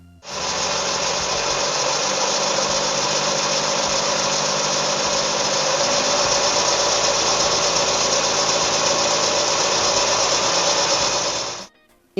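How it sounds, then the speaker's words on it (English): A BMW 1 Series engine idling with a continuous metallic timing-chain rattle and ticking, loud and close, running steadily for about eleven seconds before stopping abruptly. "you can hear a rattle at cold start or a loud ticking rattling sound at 1500 RPM"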